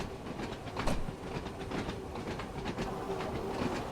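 Simulated train on the Island Line in Train Sim World 2, running on level ground while accelerating: a steady rolling rumble with faint rhythmic wheel clicks and a thin tonal hum, continuous throughout.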